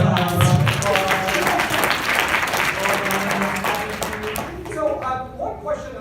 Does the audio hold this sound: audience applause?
yes